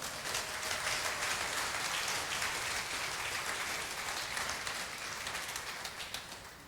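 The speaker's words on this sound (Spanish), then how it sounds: "Le damos un aplauso a los jóvenes, hermanos." A church congregation gives sustained applause for the young people, a dense wash of many hands clapping that holds steady and slowly tapers toward the end.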